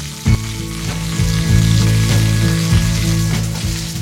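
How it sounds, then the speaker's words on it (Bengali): Pieces of bitter gourd fry in a pan for a summer dal, with a loud, close, continuous sizzle broken by a few soft knocks and stirring bumps. "আর সাইড বাই সাইড দেখো আমি উচ্ছেটাকেও ফ্রাই করে নিচ্ছি"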